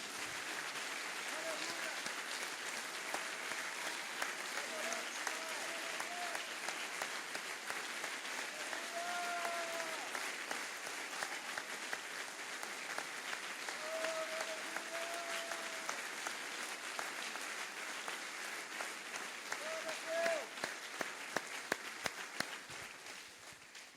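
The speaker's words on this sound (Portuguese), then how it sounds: "vamos dar uma salva de palmas ao Senhor" Applause from a church congregation fills the space at a moderate distance, a sustained rolling patter of many hands that swells slightly near the end, with a voice speaking over it at times.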